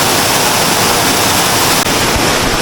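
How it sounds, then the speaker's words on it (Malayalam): Water pours and splashes steadily in the fountains of Villa d'Este, Tivoli, a dense, loud, unbroken rush that fills the whole stretch with no voices. "വെള്ളത്തിൻ്റെ സൗണ്ടാണ് ഫുള്ള്."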